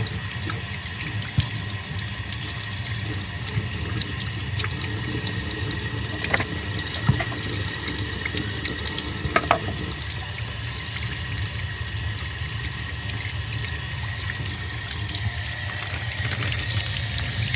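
Water runs steadily from a tap, a constant close splashing rush that carries on unbroken from start to finish.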